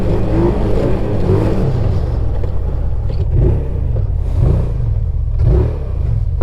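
A Titan S4 off-road vehicle's engine rumbles and revs steadily while riding a trail, a close, continuous low drone with gentle swells in throttle and no talking.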